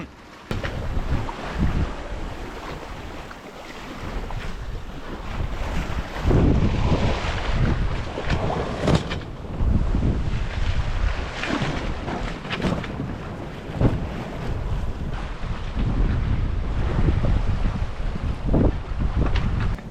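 A sailboat underway at sea in 12 to 15 knots of wind, with gusty wind buffeting the microphone, water rushing and slapping along the hull and waves washing past, no talking.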